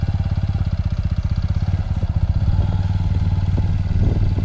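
A motorcycle engine runs steadily as a learner slowly releases the clutch, a close, loud, continuous mid-pitched chug with slight load changes and no talking.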